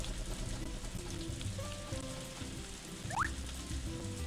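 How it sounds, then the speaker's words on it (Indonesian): Rain falling in the farming video game Story of Seasons: A Wonderful Life, a steady soft hiss of rainfall throughout with faint game sounds over it. "Padahal disiram sama si Celia loh, malah hujan, percuma dia kerja loh"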